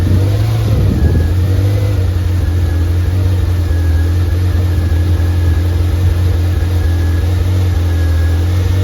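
A Ferrari 348 TS engine cold starts and runs at a steady high idle, close and loud, with a brief rev at the start and an even drone after.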